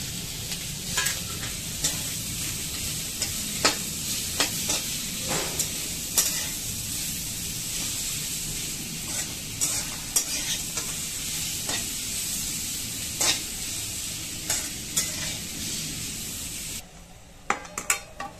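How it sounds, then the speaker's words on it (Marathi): Garlic, ginger, curry leaves, cumin and fennel frying in a pan, a steady close sizzle and hiss with frequent clicking spatula stirs throughout, cutting off quietly near the end. "जे आहे लसूण, आलं, कढीपत्ता, जिरे, बडीशेप हे सगळं घालून घेणार आहोत"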